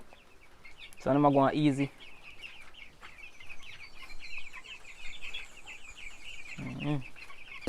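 Chickens in a fowl coop on a Jamaican poultry farm give two loud, close clucking bursts over a constant bed of chirping, while someone speaks briefly.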